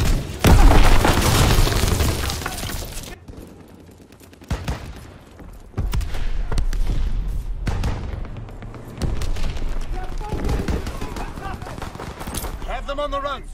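A grenade blast in Call of Duty WW2 team deathmatch opens with a loud booming explosion, followed by bursts of rapid gunfire and further thuds, with shouted voices at times.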